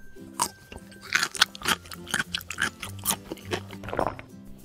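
Close crunching and chewing on a crisp apple with repeated bites, a steady irregular rhythm of crisp snaps, no talking.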